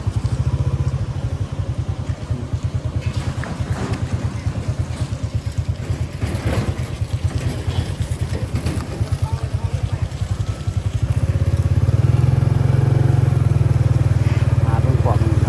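A motorcycle rides through a growing shopping market area, its engine putting out a steady loud rumble close by that swells louder and rougher near the end, with a voice talking intermittently over it.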